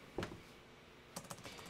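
A password is typed on a computer keyboard in a quiet room: a single soft click, a pause, then a short quick run of faint key taps.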